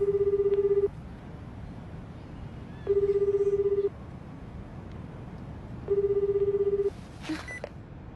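An anime sound effect of a phone ringing with no one picking up. Three identical electronic ring bursts, each about a second long, repeat at regular intervals over a low background hum.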